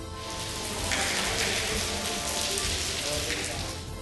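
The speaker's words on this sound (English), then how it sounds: "it's starting to rain" Steady rain begins falling on Palatine Hill in Rome, a dense, close hiss of drops hitting surfaces that holds even throughout.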